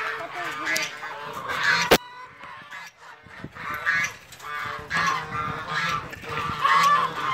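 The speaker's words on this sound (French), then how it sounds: "Là il y a une oie de Guinée avec 4 bébés." Chinese geese with goslings among poultry in a farmyard, giving repeated nasal honks in irregular bursts at close range, mixed with other farm-animal calls.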